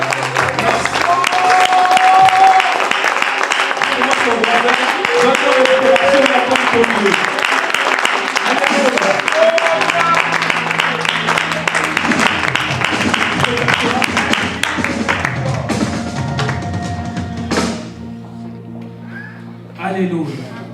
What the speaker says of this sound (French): Comment acclame Jésus, le roi des rois.